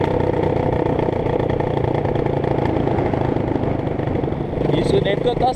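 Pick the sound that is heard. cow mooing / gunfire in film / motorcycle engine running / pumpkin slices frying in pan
motorcycle engine running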